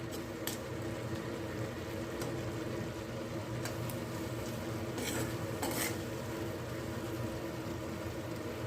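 Tomato chutney with jaggery simmers on a stovetop with a steady low bubbling and sizzle, broken by a few sharp clinks of a spoon against the pan, close by and without speech.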